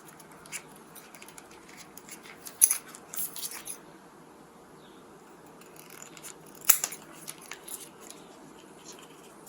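Small snips cut through wire insulation while a dash camera is fitted in a Toyota RAV4, giving a few sharp, close clicks with quiet handling in between.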